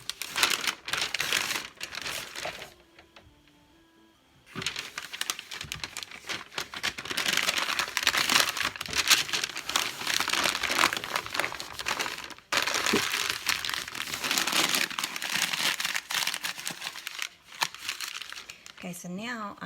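Packing paper crumples and crinkles in continuous rustling bursts as breakables are wrapped for shipping, close and fairly loud, with a short pause partway through.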